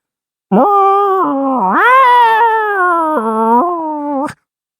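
A cat yowls in one long, loud, drawn-out wail lasting several seconds. Its pitch bends up and down before it cuts off sharply, with nothing else heard.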